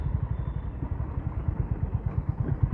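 A Honda CB350RS motorcycle rides along a rain-damaged, potholed road while downshifting from third to second gear, its single-cylinder thump pulsing steadily and close, with a low rhythmic exhaust beat and no talk.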